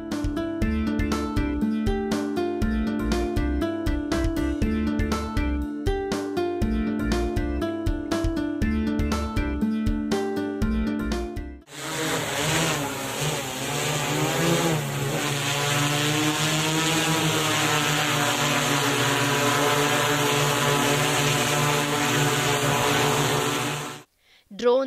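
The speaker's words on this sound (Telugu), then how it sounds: "డ్రోన్ ద్వారా మందులు పిచికారీ చేయడం వల్ల కూలీల కొరతను అధిగమించవచ్చని ఎమ్మెల్యే అంటున్నారు" An agricultural spraying drone works over a pigeon pea crop, applying pesticide: a steady, loud buzzing rotor drone with wavering pitch fills the second half, following a stretch of music.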